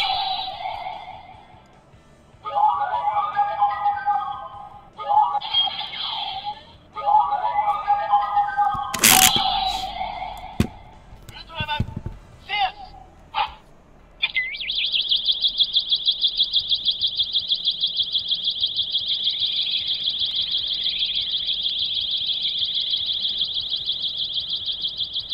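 An Ultraman Geed capsule toy plays electronic sound effects: bursts of chirpy, warbling synthetic tones, a few clicks and cracks, then a long, steady, bright electronic tone that sustains to the end. The sounds are close and clear.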